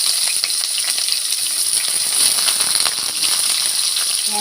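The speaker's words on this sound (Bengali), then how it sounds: "পেঁয়াজটা হালকা ভেজে নেব।" Chopped onion fries in oil already seasoned with cinnamon, cumin seeds and cracked cardamom, giving a steady bright sizzle with small crackles and occasional stirring scrapes, close and continuous with no talking.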